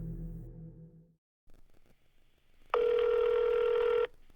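Telephone line audio before a call reaches voicemail: low muffled sound at first, a short gap, then a loud steady electronic tone lasting over a second.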